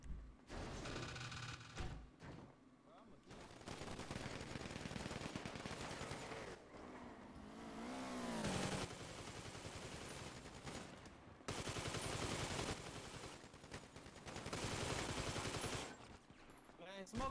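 Gunfire in GTA 5 roleplay crackles as bursts of automatic shots and scattered single shots, loud and close, broken by brief pauses.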